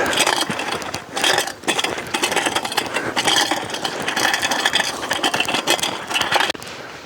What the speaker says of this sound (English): you can hear the clack of the scooter